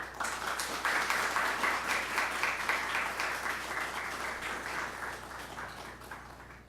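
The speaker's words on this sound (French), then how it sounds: "sous vos applaudissements" Studio audience applause at a televised career talk event, a dense burst of clapping that swells quickly, holds for a few seconds, then gradually thins and fades, with a faint steady hum underneath.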